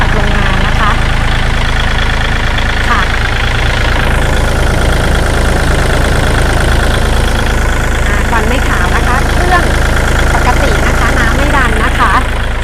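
A used Kubota L3218 tractor with about 900 hours sits idling, its engine holding a steady, loud, close drone with no change in pace for the whole stretch.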